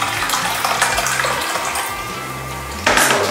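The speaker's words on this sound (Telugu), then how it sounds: "ఈ వాటర్ నేను ఒక కంటైనర్లో తీసుకుంటున్నాను." Hot water from a kettle poured steadily into a container, meant for warming chocolate chunks for a cake; a continuous close splashing, rushing flow that swells louder near the end.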